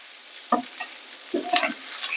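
Chopped ash gourd with salt and chilli powder fries in a pan over full flame, heard as a quiet background sizzle broken by two short bursts of spatula scraping and stirring.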